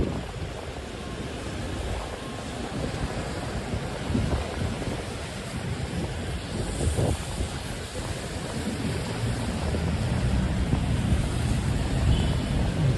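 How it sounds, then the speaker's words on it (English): Wind gusts steadily through Midtown Manhattan during a night rain storm, a continuous broadband rush with low rumble that builds slightly toward the end, with no voices. "wind is picking up now"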